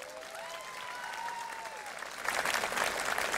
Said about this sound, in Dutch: ze verdienen allemaal, inclusief Frits, nog een enorm applaus